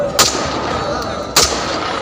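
Ceremonial gun salute at a state funeral, two sharp loud rifle shots about a second apart ringing over a steady outdoor background.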